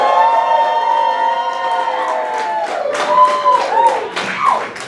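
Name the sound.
audience cheering and clapping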